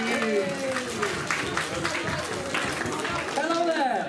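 Audience applause at the Cleethorpes Comic Con 2017 cosplay contest: a dense, continuous clatter of clapping fills the room, with voices talking over it throughout.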